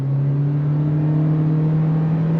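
A 2023 Toyota Corolla Cross Hybrid drives uphill through woods, shifting through simulated paddle gears under throttle, producing a steady, loud engine drone with a constant low hum and no voices over it.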